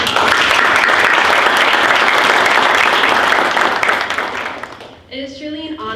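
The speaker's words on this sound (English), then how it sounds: "So if we could just give them one more round of applause." Audience applause at a community engagement scholars reception, a loud sustained round of clapping that fades after about four seconds into a voice speaking.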